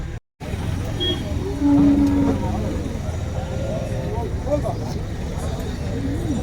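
Near a background of vehicle rumble and outdoor noise, HF and Jersey cattle let out one low, drawn-out moo, loud and fairly close, with the steady ambient hum continuing around it.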